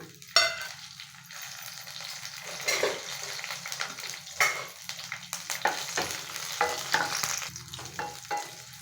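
Coriander seeds fry in oil with a soft sizzle under repeated scraping and clinking stirs of a spatula against the pan, irregular and close.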